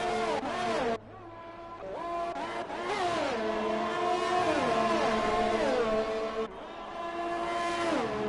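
Formula 1 cars in the F1 2020 racing game at the Belgian circuit, engines screaming and shifting pitch as several cars rev and pass close by, loud and continuous with brief dips.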